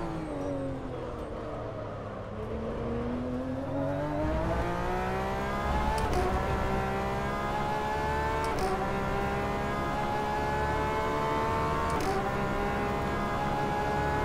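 A race car engine in the rFactor 2 sim racing game drones steadily at high revs, its pitch dipping, then climbing and holding through gear changes, loud and continuous with no talk.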